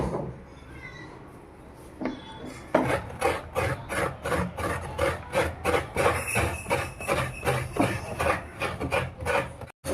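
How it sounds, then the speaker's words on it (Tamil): Fresh coconut is grated by hand in a home kitchen while a Kerala-style masala curry is prepared, making a rhythmic run of rasping scrapes, close and fairly loud, repeating steadily after a brief quiet start. "இப்போ அவர் தான் தேங்காய் துருவிட்டு இருக்கார்."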